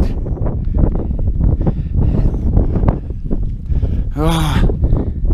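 Strong, steady wind buffets the microphone on an exposed hilltop campsite at Helm Crag, a continuous roar with gusty swells throughout, and a brief whistling tonal sweep near the end.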